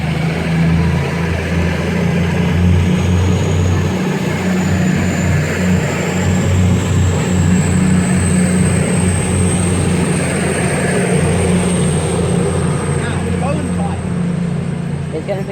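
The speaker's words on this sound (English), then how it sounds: "1 Mike 41, the 1437 East Midlands Trains service to Corby." A passenger train pulls out of Bedford station on the Midland Main Line, its engine drone low and steady with a rising high whine, close and loud throughout, while talk runs underneath.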